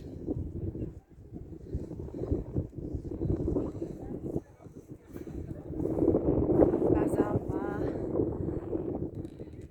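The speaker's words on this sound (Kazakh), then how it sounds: "Салкын жел." Steady, cool wind rushes and buffets past outdoors on a mountain summer pasture in Kyrgyzstan, swelling louder toward the end, with voices talking faintly underneath.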